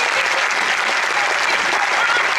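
A theatre audience claps loudly and continuously at close range, a dense, even wash of applause with no pauses.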